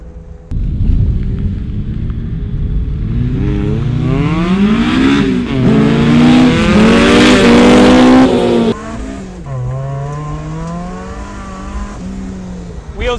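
A supercharged Miata and a K24-swapped Miata race on a track. Engines rev loudly and climb through gears in rising, sustained tones, then ease off into a lower, steadier drone.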